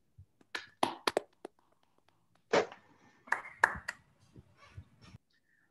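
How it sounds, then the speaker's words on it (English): Scattered applause from an online audience at an academic physics talk comes through unmuted microphones, with a few sparse claps, then a second, fuller burst, thin and uneven over quiet gaps. "So maybe we can unmute our microphone and clap up to show our appreciation."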